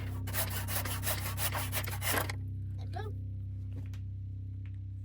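Rapid back-and-forth strokes of a hand saw cut off a wooden wedge in an axe handle for about two seconds and then stop, leaving a steady low hum and a few faint clicks.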